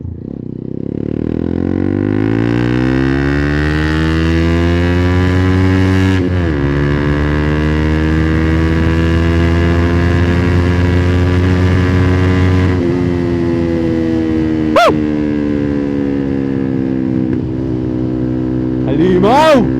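A TVS Apache 200 motorcycle fitted with an Akrapovic muffler and no silencer idles and revs loudly up close, its deep harmonic exhaust note rising and falling through several throttle blips, with a voice talking over it.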